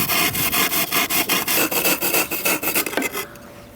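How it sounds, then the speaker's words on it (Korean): A hand saw cuts a PiN Foam panel along a marked line in quick, steady rasping strokes, loud and close, before stopping abruptly. "한번 라인을 따라서 오랜만에 톱질해 갖고서"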